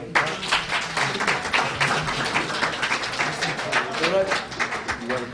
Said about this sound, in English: So a round of applause for this.